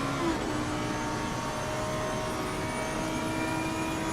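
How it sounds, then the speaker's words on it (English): A steady, high-pitched Lamborghini GT3 race car engine drones continuously at a constant pitch in the racing game Assetto Corsa Competizione, Barcelona circuit, with no talking. "There's the Lamborghini's sound."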